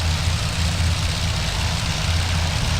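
A C-47 Skytrain's piston engines drone in the IL-2 flight game while overheating. The heavy, loud, low throbbing hum holds steady and pulses slightly throughout, with no voices over it.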